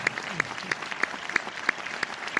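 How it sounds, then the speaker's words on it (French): An audience applauds after a film premiere screening in Orléans. The clapping comes with a steady rhythmic beat of sharp claps over a fuller wash of hands, heard as a close, continuous sound. "Je crois qu'on peut les applaudir."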